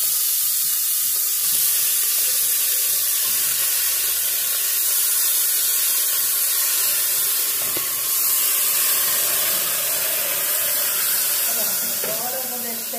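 Tripe (dobradinha) sautéing in a pan gives a steady, loud broadband sizzle and hiss that holds for the whole stretch with no break, and faint kitchen clatter sits underneath it.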